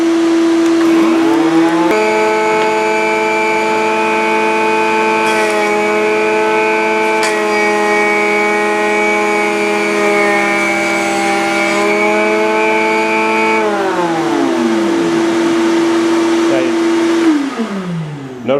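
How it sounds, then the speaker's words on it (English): A shop vacuum runs in a woodworking shop with a loud, steady motor whine. Its pitch shifts partway through, then winds down near the end. "I'm going to turn on the vacuum."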